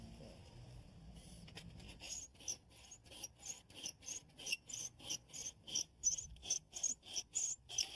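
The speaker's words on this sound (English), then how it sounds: "follow the angle, and cut it with a hacksaw" Hacksaw cutting along a marked angle line, steady back-and-forth rasping strokes at about two per second that grow louder and more regular, close and alone with no talk.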